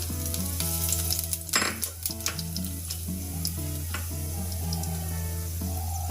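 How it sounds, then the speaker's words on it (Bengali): Whole cumin seeds sizzle in hot oil for a Bengali doi katla, a steady crackling fry with a brief louder burst, running alone under a faint background tone. "ওই তেলের মধ্যে গোটা জিরে দিয়ে দিলাম"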